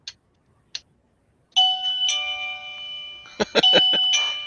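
A doorbell-style ding-dong chime rings from a button alert device on a collar, bright sustained tones repeating several times close up after a couple of short faint blips, with no talk.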